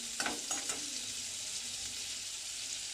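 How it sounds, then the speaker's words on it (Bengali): Garlic paste frying in melted butter, a soft, even sizzle with a few faint clicks of stirring at the start, quiet and steady throughout. "বাটারটা গলতে থাক, আমি ততক্ষণ রসুন বাটাটা দিয়ে দিচ্ছি"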